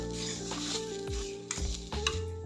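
Grated coconut frying in a pan and stirred with a spoon: repeated scraping strokes and light clinks over a soft sizzle, close by, with a steady tonal hum underneath.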